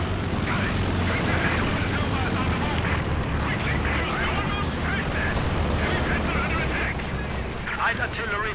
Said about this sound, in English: Light artillery fired